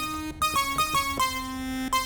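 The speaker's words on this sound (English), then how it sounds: "a saw wave, and that sounds like this" A buzzy saw-wave tone from the Phase Plant synthesizer plays a few short stepped notes, then holds one bright, steady pitch before a brief final note.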